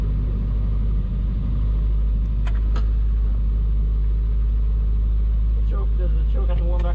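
A 1969 Opel GT engine idles through its old exhaust, a loud, steady low rumble that fills the whole stretch, with a few faint higher clicks and noises over it near the end.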